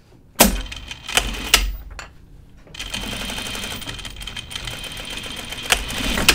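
A sewing machine stitches a jacket waistband, its needle running in a steady, close mechanical whir after a few sharp knocks and clunks of handling.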